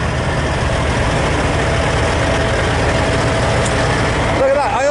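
A semi tractor truck at a chrome shop truck show idles with a steady low diesel rumble, close and loud, while a person talks over it.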